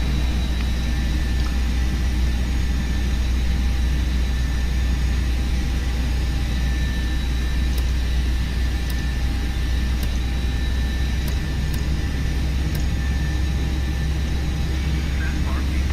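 An Airbus A319 jet engine spools up during start in the Prepar3D flight simulator, a steady broad roar with a low rumble and faint tonal whine, loud and constant throughout.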